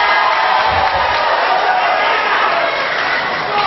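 Audience at a regency head candidates' debate in the Bungo district council building applauds and cheers, a dense, loud, continuous wash of clapping and crowd noise.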